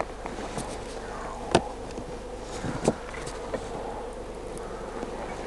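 Honeybees droning steadily from an opened hive of a strong swarm colony, a close continuous buzz with a few brief louder passes near the listener.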